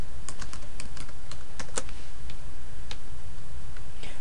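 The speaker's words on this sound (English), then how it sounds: "I would suggest hitting the space bar a few times and then typing in whatever footer text" Computer keyboard keys clicking in a quick irregular series of close, crisp taps, with a few space bar presses mixed in, over a steady low hum.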